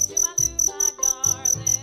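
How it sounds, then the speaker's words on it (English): A cricket chirps in rapid, regular pulses of high, shrill trilling, loud and close, repeating steadily with rhythmic low thumps beneath and no voices. "Cricket."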